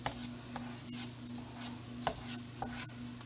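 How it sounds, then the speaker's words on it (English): Onions cooking in butter in a pan, a low steady sizzle and hum broken by occasional sharp scrape-and-tap stirring sounds, close and fairly quiet with no talk. "And I will add just a little bit of butter and brown it in that so it gets that buttery flavor without actually browning the onions."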